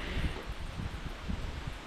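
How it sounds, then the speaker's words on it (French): Wind picks up outdoors beside a river, buffeting the microphone in uneven low gusts with a soft rustling hiss behind, fairly quiet and with no speech. "Là, il y a le vent qui se lève."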